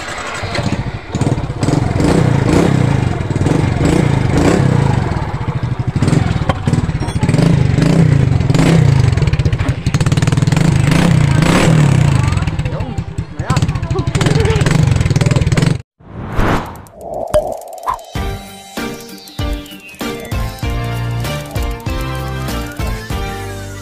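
Honda Smash 115 motorcycle fitted with a kalkal exhaust pipe revving loudly and continuously for about sixteen seconds with a raspy, clattering tone, then cutting out before sputtering idle bursts return.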